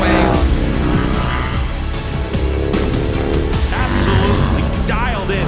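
Several Harley-Davidson factory race motorcycles roar together at full throttle, their engines dense and loud with rising and falling revs as they lead the pack around the track, and a voice speaks over the din.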